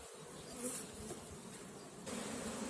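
Honeybees buzzing steadily at a hive during colony expansion, a dense continuous hum of many insects close by with no one speaking.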